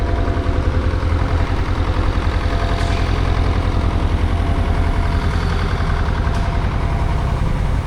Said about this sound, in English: here we see a Worthington Simpson triple expansion engine from 1940